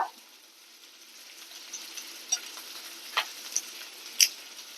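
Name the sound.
ginger, garlic and curry leaves sautéing in a pan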